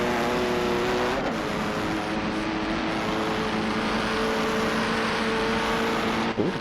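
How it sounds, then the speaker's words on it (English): A BMW Pro racing car engine in a racing video game drones loudly and steadily, holding a high, buzzing pitch close by with little change across the stretch. "Ooh, the BMW Pro car, that sounds cool."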